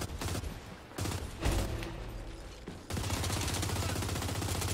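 Gears 5 shotgun blasts in a frantic multiplayer fight, several loud booming shots in quick succession followed by a dense, sustained roar of gunfire.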